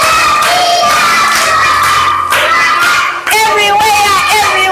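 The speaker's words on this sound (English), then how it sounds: "Clap hands for Karen" A classroom of young children in a Kigali school claps and cheers for a classmate, loud rhythmic clapping under excited shouts and chanting voices, close and energetic throughout.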